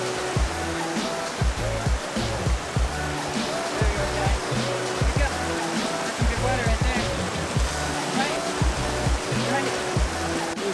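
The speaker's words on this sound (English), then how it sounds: "Waterfall's just beautiful." Steady, loud rush of falling water from a waterfall on a hike up to Saint Mary's Glacier, a broad continuous roar heard up close with low rumbling throughout.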